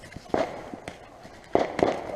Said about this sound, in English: All those fireworks, chuck them on the fire.